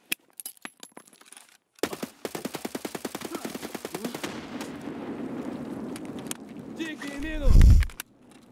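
A long burst of rapid automatic gunfire in Escape From Tarkov rattles at a steady fast rhythm after a few scattered earlier shots, followed by a deep thud near the end and a voice talking over it.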